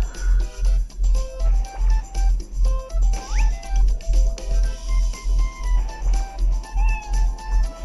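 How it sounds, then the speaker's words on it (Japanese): Cat meows from the Kobito Zukan video game, short pitched calls over a steady pulsing game music loop with a thumping low beat, no one talking. "猫は泣いてくれた"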